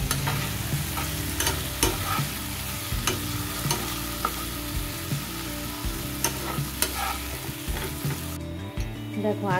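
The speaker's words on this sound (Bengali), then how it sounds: "আলুগুলোকে নুন আর হলুদ দিয়ে হালকা করে ভেজে নেব" Potatoes seasoned with salt and turmeric fry in oil in a pan, a loud continuous sizzle broken by repeated sharp clinks and scrapes of a spatula stirring them.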